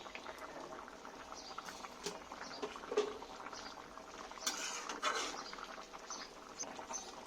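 Soybean curry gravy with potatoes bubbles in a pot, a continuous soft bubbling and popping simmer with occasional louder plops, close by and without voices.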